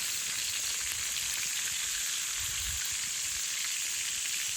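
Squid frying in a pan cooked over a desert island camp fire, with a steady bright sizzle and crackle running unbroken throughout, close and loud, with no talking.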